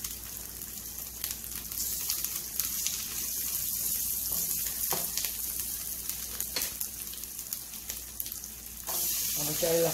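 Chorizo sizzles and crackles steadily in a frying pan, a close, continuous hiss with brief scraping bursts and a sharper flare near the end.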